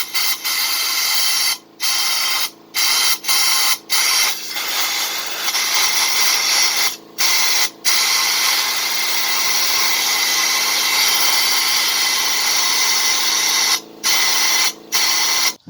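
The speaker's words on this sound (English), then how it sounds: "We should probably pass through with the air compressor." An air compressor nozzle blasts bursts of air through parts of a 1975 AMC Matador Brougham carburetor, loud hissing gusts cut by about a dozen short pauses, with no talk.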